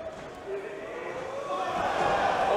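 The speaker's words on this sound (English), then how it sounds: "Listen to this crowd, split down the middle." A wrestling arena crowd at a pro wrestling bout in Japan cheers in a sustained roar that swells louder toward the end, with a commentator talking over it.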